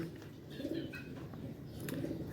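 Pigeons coo softly in short throaty bursts, a couple of low rounded calls close by over a steady background hum.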